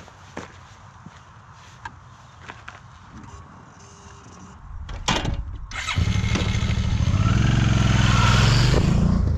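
Triumph Tiger 1200 Explorer motorcycle: quiet footsteps and handling noises first, then the engine cranks and catches, settling into a loud, steady run and rising as the bike pulls away, close up.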